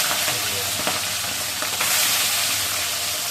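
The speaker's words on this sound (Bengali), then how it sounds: "আলু তুলে ময়লা মাছগুলো একটু ভেজে নিব" Small fish frying in a pan of hot oil at a home kitchen stove, a steady close hiss and crackle with a few brief clinks of stirring, no voices.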